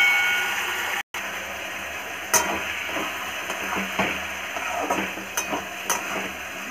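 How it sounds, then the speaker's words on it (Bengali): Prawns coated in salt, turmeric, chili powder and cumin fry in a pan with a steady close sizzle, while a utensil scrapes and clicks against the pan at irregular moments. "চিংড়িগুলোকে ভালোভাবে ভেজে নেব।"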